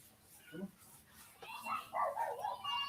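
A dog barks and yips in short bursts, one early low bark then a run of higher excited yelps and whimpers, close by, with a person talking over it.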